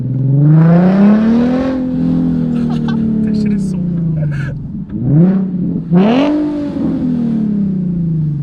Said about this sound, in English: I'm excited to hear the downshifts.